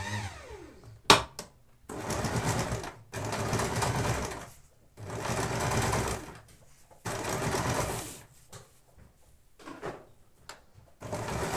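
A sewing machine stitches a quilt ornament in short bursts of whirring, each lasting a second or two. Clicks and pauses fall between the runs.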